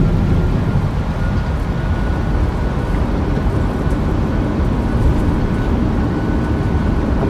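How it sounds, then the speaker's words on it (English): An airliner's thrust reversers roaring on landing in a flight simulator game, a loud, steady, low rumbling roar that holds level for the whole stretch with no speech over it. "Reversers."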